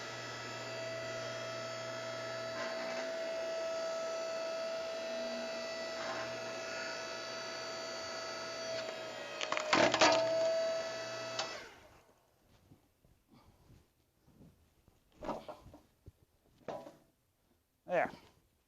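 An electric log splitter drives its ram into firewood: a steady motor hum runs for several seconds, a sharp crack of splitting wood follows, then quieter knocks and thuds.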